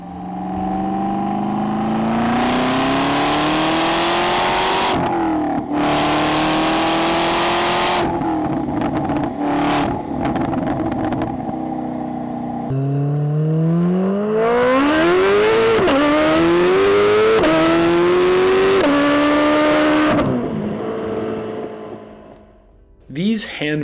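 Loud V8 engines of a C8 Corvette Z06 and a Camaro ZL1 with a crossplane LT4 rev repeatedly, pitch climbing and falling in long sweeps, with a deep throaty rumble and brief gaps between runs.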